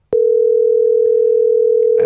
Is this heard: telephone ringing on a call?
yes